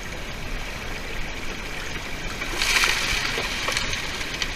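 Water splashes and rushes as a sluice box is lifted out of a stream, with a steady flowing backdrop and a brief, louder burst of splashing partway through.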